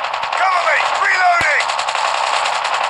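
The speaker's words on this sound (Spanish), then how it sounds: "¿Por qué nos dispara?" Rapid automatic gunfire in the mobile game Call of Duty Mobile, loud and continuous bursts of shots over game sound effects.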